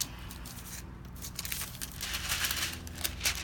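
Parchment baking paper is handled and crinkled on a work surface while glitter is applied with epoxy, giving irregular close rustles and crackles that grow busier and louder toward the end.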